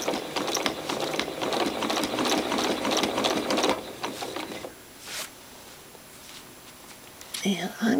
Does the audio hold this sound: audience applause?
no